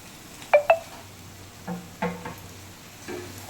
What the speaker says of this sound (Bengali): দেওয়ার পর ভালোভাবে আস্তে আস্তে কষিয়ে নেবো এই আলু পটলের সাথে পনিরটা ভালো করে